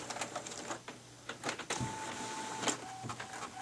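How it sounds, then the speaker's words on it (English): An inkjet printer runs black-and-white onto tissue paper, a busy mechanical whir with rhythmic clicks, shuttling carriage sweeps and a sustained motor tone, close and fairly quiet with no voices. "That's a noisy printer"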